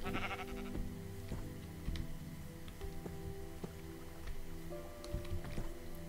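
Bleats from a sheep in modded Minecraft 1.7.10, a couple of brief calls mixed into a continuous bed of game music and soft clicks, fairly quiet.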